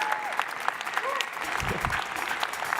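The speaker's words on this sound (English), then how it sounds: "I want to hear some applause." Audience applause greets a team called up on stage at a health hackathon presentation, a steady wash of clapping from a crowd lasting the whole stretch, with a few faint tones and murmurs underneath.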